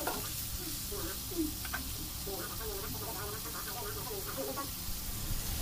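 Pork and pounded chili paste being stirred in a frying pan, a steady sizzle with scraping stir strokes running throughout, fairly close and continuous, with a faint voice in the background.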